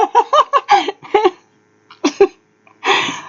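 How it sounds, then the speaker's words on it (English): A few short bursts of voice that sound like coughing and spluttering, close to the microphone, ending in a breathy, raspy burst. "I had a cough stuck."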